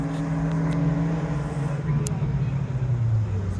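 A mid-1960s Lotus Elan vintage race car at a vintage grand prix drives past, a steady droning engine hum that holds fairly close and constant, with a brief high tick partway through and no clear talk.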